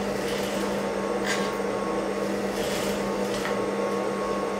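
A sewing machine stitches blouse fabric in a tailoring session with a continuous close whirring hum and a faint mechanical buzz, holding a steady level throughout.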